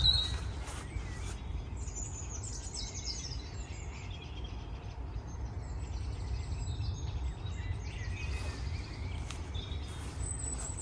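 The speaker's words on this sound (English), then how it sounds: "I can hear these lovely birds singing" Birds chirp and sing outdoors in a garden setting, faint high calls scattered over a steady low background rumble, with no talking.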